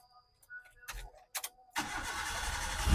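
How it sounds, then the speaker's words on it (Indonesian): A 2007 Suzuki Estilo with a racing exhaust cranks over briefly after a few faint clicks, then catches and settles into a steady, fairly quiet idle close by. "Kita coba hidupin untuk knalpot racingnya."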